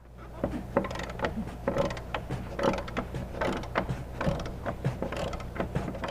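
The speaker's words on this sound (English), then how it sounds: "We're going to have to get this bolt out." A ratchet wrench loosening a bolt under a seat in a Jeep Wrangler Rubicon. Rapid, rhythmic clicking of the ratchet repeats closely, with light rustling of the car interior.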